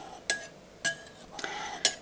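Utensil cuts into set curd in a bowl, the mixture springy and slightly elastic rather than grainy, giving four short, close clinks and scrapes spaced about half a second apart, with no talking.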